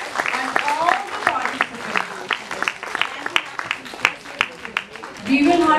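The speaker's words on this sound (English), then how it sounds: "Can we have a huge round of applause for all the teachers" An audience at a school product-launch event applauds for the teachers, a dense wash of many hands clapping that swells and tapers, with voices mixed in and a louder burst at the end.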